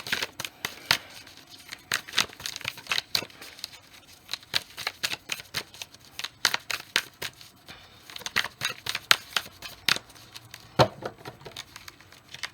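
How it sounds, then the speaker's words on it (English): Cards are shuffled repeatedly in quick riffling bursts, close by and crisp, continuing steadily with brief pauses between rounds. "while I'm shuffling this card until it comes up"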